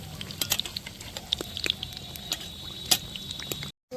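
A moglai paratha shallow-frying in oil in a pan over medium heat gives off a soft, close crackle, scattered pops and spits above a faint bubbling hiss, then cuts off abruptly.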